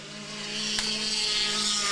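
A steady, droning racing powerboat engine hums at a distance during a race in Constantine, Michigan, holding a constant pitch with no voices over it.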